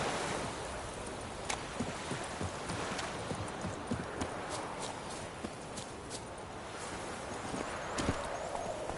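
The horse Roach gallops in a video game, with steady rhythmic hoofbeats clip-clopping close by over a constant washing ambience.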